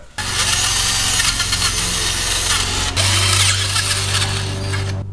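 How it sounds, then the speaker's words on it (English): A power drill whines loudly and steadily, its pitch shifting slightly as it bites into metal, drilling out stripped brake caliper threads on a Dodge Dakota, running nearly continuously for several seconds. "we gotta drill this out"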